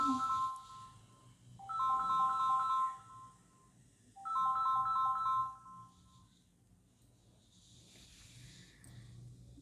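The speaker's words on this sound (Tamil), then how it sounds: "நான் இதை சொன்னது ரிங்டோன் அடிக்குது பாருங்கள்" A phone ringtone plays twice as a bright repeating electronic melody, each burst lasting about two seconds with a pause between, fairly faint and with no talking over it.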